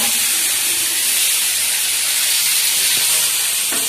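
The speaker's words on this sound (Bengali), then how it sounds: "এখন কড়ায় নাড়তে নাড়তে দেখি যে আমি এটা কি গোল মতন" Mixed vegetables, including ridge gourd and cucumber, are stir-fried in a kadai, a loud close hiss and crackle that runs steadily throughout, with a few faint clinks of stirring.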